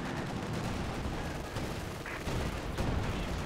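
Dense, continuous battle noise from the Company of Heroes 2 strategy game: rattling machine-gun fire, heavy tank cannon booms and explosions piling over one another at a steady, loud level.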